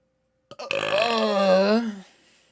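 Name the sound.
a burp after drinking water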